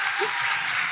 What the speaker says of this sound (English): You will have to clap your hands again because that was the last slide.